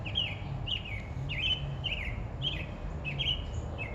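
A bird sings from an oak tree, a repeated short, bright chirping phrase about twice a second, clear but somewhat distant, with faint background hum and no talking.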